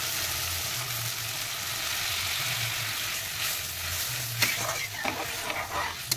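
A Bengali curry gravy with coconut milk bubbles and sizzles in a pan, a continuous close frying hiss over a low churning simmer, with a few soft clinks near the end.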